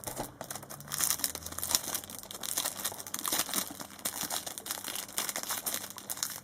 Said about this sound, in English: Keep opening all this plastic.